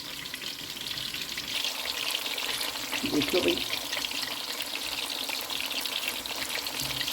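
Sweet potato pieces sizzle and crackle steadily in a frying pan, close up, with a brief stirring clatter midway and a short spoken remark over the hiss.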